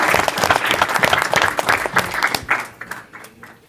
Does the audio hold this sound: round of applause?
yes